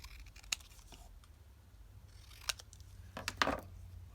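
Scissors trim a glue-covered paper piece in a quiet room, giving a few sparse, faint snips and crisp cutting sounds with gaps between them.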